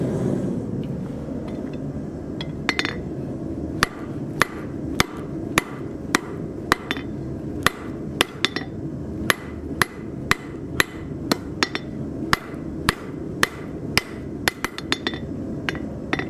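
Sharp metallic blows of a 3-pound hammer ring out one after another on an anvil in an uneven rhythm, close and distinct over a low background rumble.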